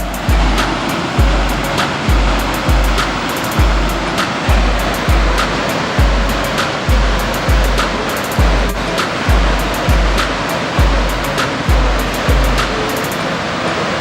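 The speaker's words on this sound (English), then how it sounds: "Look at the waterfalls." Massive waterfalls near Reykjavik, Iceland roar in a dense, steady wash of falling water, loud and continuous, with a faint regular thumping pulse running beneath it throughout.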